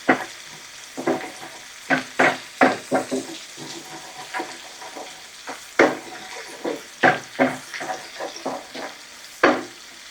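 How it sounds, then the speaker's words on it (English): A flour and butter roux cooks in a pan, heard as a series of close, sharp scraping and stirring strokes in uneven bursts over a soft background sizzle. "That's a roux. Cook that flour for 1 minute."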